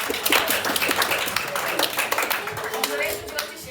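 A small audience at a talk breaks into dense, steady clapping that stays close and even for several seconds, with a few voices murmuring underneath.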